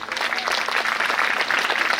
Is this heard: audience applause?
yes